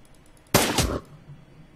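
A single loud handgun shot rings out in the video game Shadowrun Returns, a sudden burst lasting about half a second over faint background ambience.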